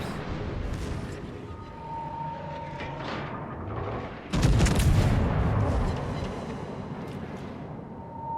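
Naval gunfire shells in World of Warships, hitting a destroyer during an operation: distant rumbling booms build into a sudden heavy blast of shell impacts partway through, followed by fading rumble and scattered further hits.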